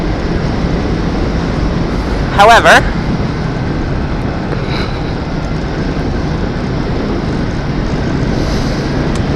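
A steady engine drone and wind rush while riding, with a brief spoken word and a quick high chirp partway through.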